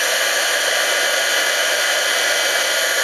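A heat embossing tool blows hot air over stamped embossing powder, a steady, close, loud whooshing drone with no breaks.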